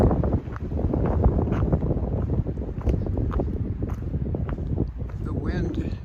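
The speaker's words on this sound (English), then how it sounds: "The wind is pretty strong here on this ridge coming out of the east" Strong east wind buffets a mountain ridge on the Appalachian Trail, a loud continuous roar of gusts hitting the microphone up close, with a person talking over it.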